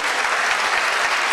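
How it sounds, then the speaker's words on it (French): Applause for a presenter walking up at a Belgian disability awards ceremony, a steady, dense burst of clapping from the audience that stays at an even level, close and loud, with no voices over it. "Applaudissez-la, s'il vous plaît"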